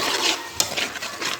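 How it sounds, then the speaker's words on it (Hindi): Spices frying in a pan for aloo ki bhujia while a spoon stirs them, giving soft scraping strokes over a steady hiss, with one sharper clink near the middle. "अब हम मसालों को 1-2 मिनट तक भून लेंगे। अच्छे से इनको भूनना है, सही से चमचा इसमें हिलाना है"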